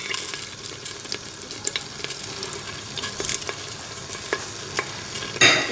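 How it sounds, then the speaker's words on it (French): Pieces of meat brown in a generous amount of olive oil with butter, giving a steady close sizzle broken by scattered utensil scrapes and a clatter at the end. "Et je fais colorer mes morceaux de viande dedans."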